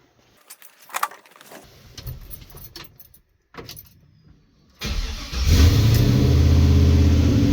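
A 1965 Chevrolet Impala with a swapped LS V8 engine. Keys jangle and click during a few quiet seconds, then the engine cranks, fires and settles into a loud, steady, close idle with a slight rev.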